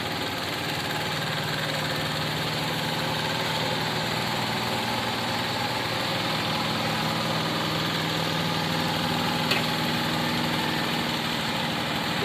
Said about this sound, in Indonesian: Ada 2 traktor